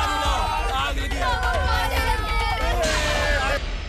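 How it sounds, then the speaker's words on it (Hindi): Many agitated villagers' voices overlap in a loud, continuous clamor of shouting and crying out, like a distressed crowd close by. "ये तो गांव वालों की आवाज है।"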